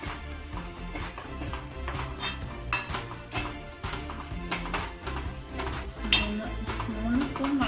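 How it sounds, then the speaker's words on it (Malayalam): A chilli powder mixture being stirred in a pan, with irregular metallic clinks and scrapes of a spoon against the pan, close and moderately loud, over a low background hum. "ഇളക്കി കൊടുക്കാം."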